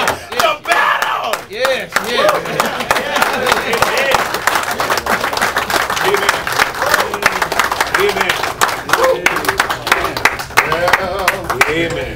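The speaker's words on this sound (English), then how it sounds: "Give God another hand clap of praise." A church congregation claps in praise, dense sustained hand clapping mixed with loud shouting and cheering voices, continuous and close throughout.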